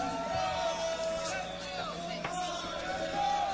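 A crowd at a Grand Beatbox Loopstation Battle in 2017 cheers loudly, with whoops and shouts blending into a continuous roar that fills the whole moment.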